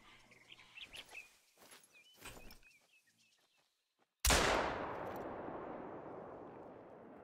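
A single loud hunting-rifle gunshot cracks out of a quiet outdoor hunting game ambience, its boom ringing and decaying for several seconds; earlier, faint bird chirps and soft footsteps are heard.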